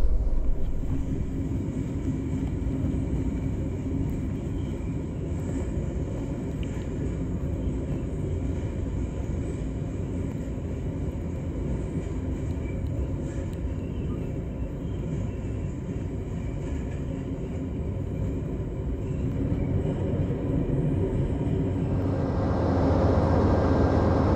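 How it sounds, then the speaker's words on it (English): A train rumbles steadily for a long stretch into Pittsburgh's Union Station, beside the Pennsylvanian, a constant low roar that shifts slightly near the end as it slows. "the train pulls in next to the Pennsylvanian"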